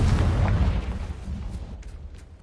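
Confringo blasting spell detonating in Hogwarts Legacy, a loud, close explosion with a heavy low boom that rolls and slowly decays over a couple of seconds.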